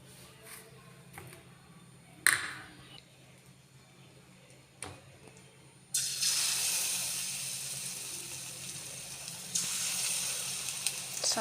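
Hot oil in a wok starts quiet with a few clinks, then bursts into loud, steady sizzling frying that continues, swelling again near the end.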